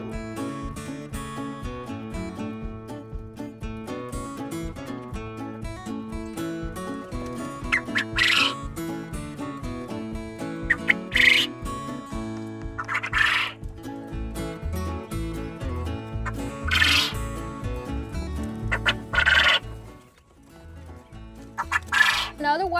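A flock of six-week-old quail calls from a hutch, with continuous chirping and clucking and several sharper, louder crows rising over the chatter.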